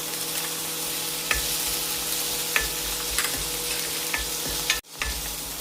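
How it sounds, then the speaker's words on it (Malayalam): Chopped tomatoes and green chilies sautéing in a pan for a raw mango rasam, a steady close sizzle with occasional spoon taps against the pan, briefly dropping out near the end. "അതിലേക്ക് അരിഞ്ഞ് വെച്ചിരിക്കുന്ന തക്കാളിപ്പഴം ചേർക്കാം."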